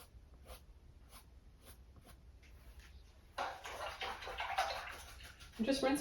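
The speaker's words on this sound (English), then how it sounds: "I'm just rinsing my brush out because it's starting to build up too much with paint" A paintbrush loaded with acrylic paint is rinsed in water, giving soft splashing and swishing that builds after a few faint taps, quiet and close, with a voice speaking over part of it.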